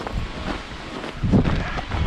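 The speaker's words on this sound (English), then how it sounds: "you could probably hear the wind on the GoPro" Strong, cold winter wind on a New Hampshire mountainside buffets a GoPro microphone, rumbling and gusting unevenly with a louder blast near the end, no voices.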